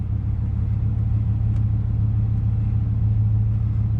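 A 2003 Chevrolet Suburban with 48,000 miles idles with a loud, even low rumble and hum that holds steady throughout, with no other sounds over it.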